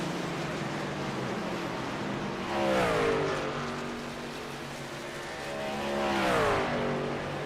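Race cars circling Nashville Speedway, engine roar rising and falling as two cars sweep past in turn with Doppler-bending pitch, over a constant background rumble of the field.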